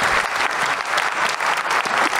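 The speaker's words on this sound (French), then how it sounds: "Merci, Dr Miard, qu'on peut applaudir pour ce témoignage" Dense, sustained applause from a conference audience at a homeopathy event in Rennes, many hands clapping loudly and evenly with no talk over it.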